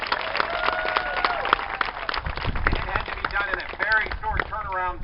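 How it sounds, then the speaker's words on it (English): Applause from a crowd at a live radio event on a university campus, with voices talking over and through the clapping. "let's give her a round of applause."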